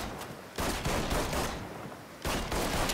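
Heavy bursts of gunfire in Mafia III, with booming blasts landing around 0.6 and 2.3 seconds amid a continuous dense roar of shooting, loud and close with no talk.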